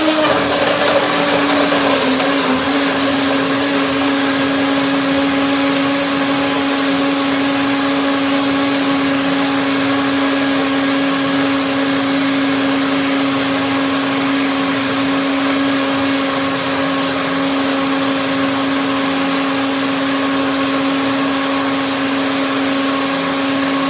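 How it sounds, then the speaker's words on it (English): A blender runs continuously at full power through cashews, bananas and nectarines, producing a loud, steady, close-up whirring drone for the whole stretch. "Blender dance."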